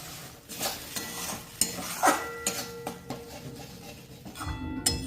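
Water poured into a pan of well-fried spice paste with poppy-seed paste for a small-fish curry, a close bubbling sizzle with spoon stirring and metal clinks against the pan, no talk.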